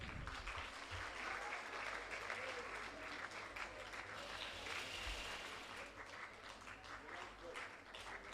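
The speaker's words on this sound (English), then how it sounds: "I request everyone to applause for the winners." A crowd at a quiz event in Chennai claps steadily for the winners, a dense, even round of applause lasting several seconds with faint voices mixed in.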